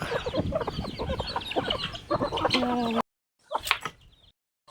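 A flock of chickens clucks busily and close by, with overlapping calls, then a brief pause before a few more clucks.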